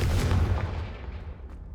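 A Confringo explosive spell bursts in Hogwarts Legacy with a heavy, close boom that rolls away into a fading rumble over nearly two seconds.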